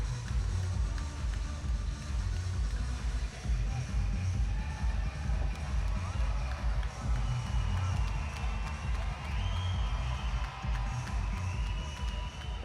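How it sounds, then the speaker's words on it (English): Crowd at a PFC11 cage fight, Ryan O'Shea vs Seth Connor, applauds and cheers the fighters after a three-round bout, a steady dense wash of clapping and crowd noise. "Keep that round of applause going for both of the fighters in this cage."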